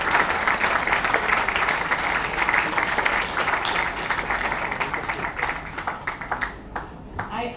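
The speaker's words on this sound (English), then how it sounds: "Let's give a big round of applause to our young novelist Zuni." An audience at a book launch for a young novelist applauds in a steady, dense wash of clapping that slowly thins toward the end, with a voice speaking over it.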